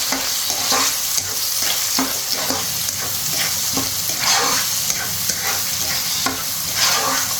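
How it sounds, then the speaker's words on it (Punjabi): Sliced onions sizzle loudly in a pan of hot fat for a tadka for a potato curry, with a spatula scraping and stirring in a steady, repeated rhythm close by. "ਇਹਨੂੰ ਲਾਈਟ ਬ੍ਰਾਊਨ ਹੋਣ ਤੱਕ ਆਪਾਂ ਸੇਕ ਲਗਾਣਾ ਹੈ"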